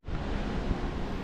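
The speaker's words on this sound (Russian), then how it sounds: "сейчас еще и ветер" Wind blows across the open sea during an Atlantic Ocean crossing aboard a ship, a steady broadband rush buffeting the microphone with surf-like noise and no voices.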